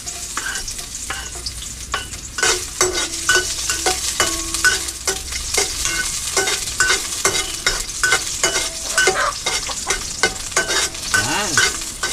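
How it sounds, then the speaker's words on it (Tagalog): Garlic sizzles steadily as it fries in oil in a pan, with repeated scraping stirs of a utensil sounding close and loud throughout, no talking. "Lagyan natin ang bawang."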